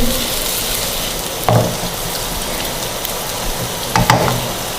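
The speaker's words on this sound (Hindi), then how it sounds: "थोड़ा प्याज हमारा सौते होता है" Onions sauté in two to three tablespoons of oil or ghee over high flame, giving a steady close crackling sizzle, with two brief louder scrapes as they are stirred.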